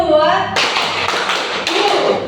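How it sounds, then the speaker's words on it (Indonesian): A group doing a 'tepuk semangat' cheer with hand claps: a couple of loud, sharp clap bursts close by, mixed with voices. "Jadi skripnya itu tepuk semangat."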